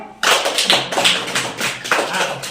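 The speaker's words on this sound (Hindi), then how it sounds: "पहले इनके लिए ताली बजाओ।" Schoolchildren in a primary classroom clapping for classmates, close and loud bursts of uneven hand claps in a few short waves, with a brief voice mixed in.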